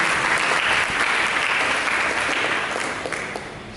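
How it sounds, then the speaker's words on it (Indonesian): Congregation in a church service applauding together, a dense steady wash of many hands clapping close and loud, fading slightly toward the end with no voices over it. "Mari kita berikan tepuk tangan."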